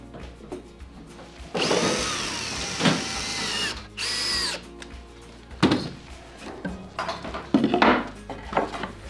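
A power drill drives a screw into a wooden jig, with a few close bursts of whirring motor and squealing fastener, broken up by short clatters and knocks of handling on the bench.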